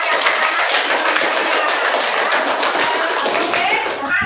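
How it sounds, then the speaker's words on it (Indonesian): A classroom full of students applauds a group's performance, dense steady clapping from many hands at close range for several seconds that thins slightly at the end. "tepuk tangan untuk penampilan yang"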